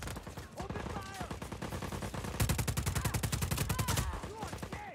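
Rapid automatic gunfire in Just Cause 4, dense repeated bursts that swell louder and more rhythmic midway, layered with game voice shouts and battle noise.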